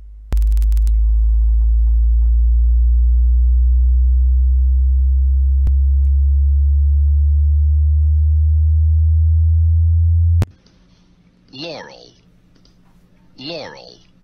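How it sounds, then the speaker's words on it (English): A steady low-frequency sine tone plays loud and alone for about ten seconds, then cuts off, followed by two short processed voice samples of the Yanny vs Laurel recording. "after you hear just about 10 seconds of low frequency sound, your ears should have tuned themselves to hear just low frequency"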